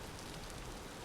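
Steady broadband hiss of rain falling in the video game Vintage Story, a continuous even wash with no distinct drops, heard alone.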